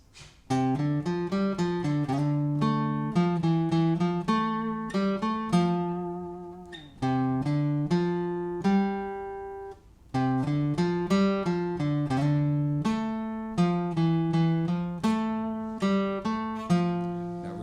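A plucked acoustic guitar riff played alone, a quick repeating pattern of ringing notes with brief pauses between phrases.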